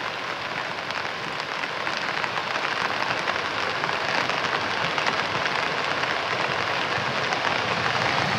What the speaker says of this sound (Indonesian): Inilah detik-detik datangnya banjir lahar hujan Gunung Semeru yang menerjang aliran Sungai Besuk Lengkong